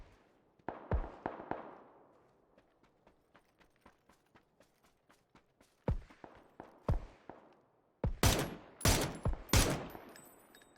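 Gunfire from a VSS suppressed rifle in the PUBG video game, heard as a steady run of sharp, evenly spaced single shots, with louder heavy reports bunching toward the end.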